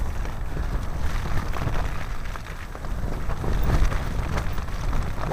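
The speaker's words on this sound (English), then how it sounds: "Oh boy, that wind's blowing." Strong wind blowing outdoors on a desert canyon road, a loud, steady roar with gusty low rumble buffeting the microphone throughout, no voices.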